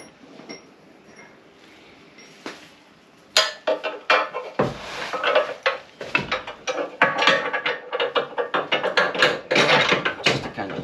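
A ratchet works on the front bolts of a car seat, giving sharp clicking and metallic clinks in irregular bursts, close and fairly loud, after a quiet start.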